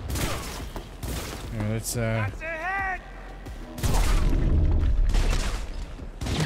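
Gunfire in the Cyberpunk 2077 video game, sharp shots and bursts between and under voices speaking, with a denser, louder volley in the second half.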